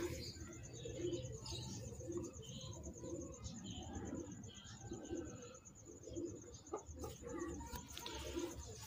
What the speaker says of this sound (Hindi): कोने वाले टैडी कबूतर जो है ना, इनमें से सलारे भी निकलते हैं।